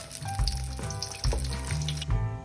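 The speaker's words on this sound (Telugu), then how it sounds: "మిక్చర్ని అయితే చిన్న చిన్న ఉండలుగా చేసుకొని దాన్ని వడల షేప్లో చేసుకొని ఆ నూనెలో అయితే ఫ్రై చేసుకోవాలి" Small rajma (kidney bean) vadas frying in hot oil, a steady close sizzle and crackle with bubbling, no talk.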